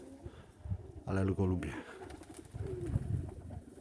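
A grey male pigeon coos in a short rolling burst, fairly close. Someone speaks briefly over it amid outdoor background noise.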